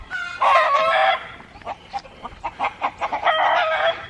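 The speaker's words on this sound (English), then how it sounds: "lots of noisy chickens. They're getting all excited because Sammy's about to give them some water and maybe some food." A flock of chickens in a Philippine yard squawk and cluck excitedly before watering and feeding, loud and close, with bursts of raucous calls broken by a string of quick clucks.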